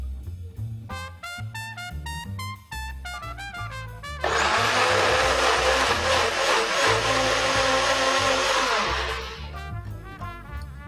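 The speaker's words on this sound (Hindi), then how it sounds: "अब ये वेजिटेबल्स को हम मिक्सी में डाल देंगे।" A blender grinding vegetables whirs loudly for several seconds, a dense grinding roar that starts abruptly and cuts off, with background music playing throughout.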